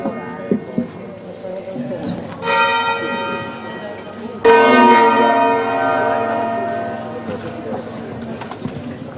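Church bells ringing outdoors in an Italian town, two strong tolls with long sustained ringing tones that decay slowly, over faint background chatter and movement.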